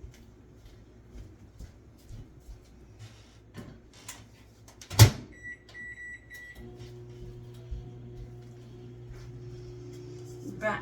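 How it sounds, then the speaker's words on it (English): A microwave oven hums steadily while reheating food for a chili recipe, with a clunk of the door or a button press, a brief tone, then a louder constant drone with a faint rattle, heard close with no talk. "Now we're going to put it back in the microwave for another 4 minutes"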